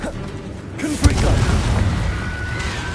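A Confringo fire spell from a Harry Potter-style witchcraft game bursts with a sharp boom at about one second, then a rumbling wash of noise and game sound effects carries on over the rest of the moment.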